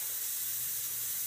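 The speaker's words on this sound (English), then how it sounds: "This compressor leaks like a sieve, so I need to fix that." A leaking air compressor feeding a small homemade wobbler steam engine gives off a steady, bright, continuous hiss at close range, with no voices over it.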